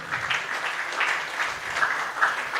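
A French-speaking audience at a Saturday question-and-answer session gives fairly quiet, steady applause, with rippling clapping that swells slightly a few times and stays moderately distant.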